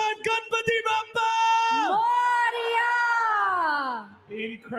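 Arena crowd at a prime minister's event in Sydney's Kudos Bank Arena, chanting Ganpati Bappa in a loud, sustained, swelling group shout that follows a voice over the public address, with short bursts of talk before and after.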